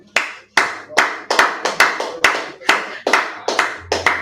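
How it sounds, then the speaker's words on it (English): A class claps hands together in rhythm, about ten sharp, loud unison claps in an accelerating beat that speeds up toward the end, with no talk over it. "Clap it up."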